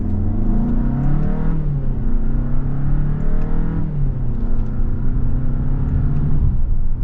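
A 2024 Hyundai Santa Fe Limited AWD accelerates in manual mode, its engine note climbing steadily and then dropping at crisp gear shifts, a smooth, moderately loud rumble heard from inside the cabin.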